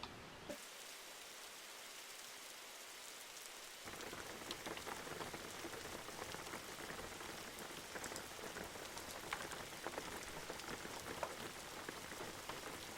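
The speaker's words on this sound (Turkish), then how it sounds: "Yağmur başladı." Rain in the driving game Jalopy, a steady hiss of drops on surfaces that thickens noticeably partway through and keeps pattering evenly to the end.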